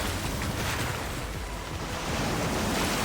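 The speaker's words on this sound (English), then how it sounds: "So I'm gonna wash them away with water." Rushing water washing over the scene in a mystery video game, a steady full-bodied surging wash like surf that swells slightly toward the end, heard alone without speech.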